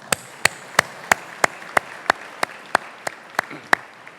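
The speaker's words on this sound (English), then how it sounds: "Please give yourself a big round of applause." Guests at a Chamber of Commerce annual awards dinner clap in a steady, evenly spaced rhythm. About a dozen sharp, distinct claps land roughly three per second, close and crisp, with no talking.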